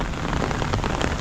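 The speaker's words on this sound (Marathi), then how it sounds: "तुफान पाऊस पडतोय आणि टेरेसवरून एकदम व्ह्यू आहे ना अप्रतिम आहे." Heavy monsoon rain pours down as heard from a terrace, a loud, dense, unbroken hiss of drops drumming on surfaces close by with no voices.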